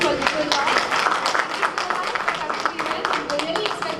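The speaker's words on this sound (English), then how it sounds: "let's have a big round of applause for Dijoton" Applause from the audience at a Kerala hotel general managers' club meet, honouring the event photographer: dense, steady clapping from a room full of people that carries on throughout with a crowd murmur beneath.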